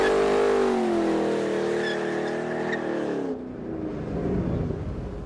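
A 2013 Ford Shelby GT500 spins its rear tires in a burnout, engine held at a loud steady high rev with tire squeal, then the pitch drops and the engine settles into a rougher, lower rumble.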